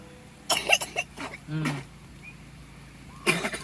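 A child's short coughs come in a quick burst, then again after a pause, with voices talking nearby.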